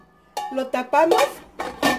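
A metal lid is set onto a cooking pot of corn for white pozole. It makes several quick ringing clanks and scrapes in about two seconds, close by, with no voices.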